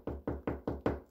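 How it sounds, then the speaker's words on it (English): Five evenly spaced, hollow knocks come from inside an attic, each a dull thud with a short decay, at a steady, moderately paced rhythm. "I heard a knock coming from the attic."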